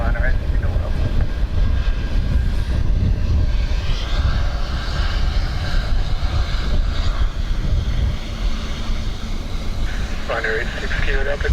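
Ryanair jet at Dublin Airport, a steady broad engine roar running throughout with a voice talking over it.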